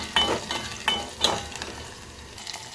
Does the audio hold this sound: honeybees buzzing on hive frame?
no